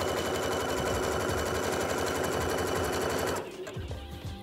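A sewing machine fitted with a stretch needle stitches stretch fabric leggings in a fast, steady whirring rattle, close and loud, then slows and stops near the end.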